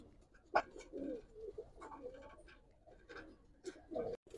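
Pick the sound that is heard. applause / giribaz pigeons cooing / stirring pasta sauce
giribaz pigeons cooing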